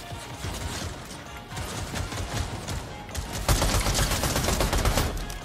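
Assault rifle fire from an AR in Fortnite, a dense, continuous spray of shots that grows louder and heavier in the second half, with no talking over it.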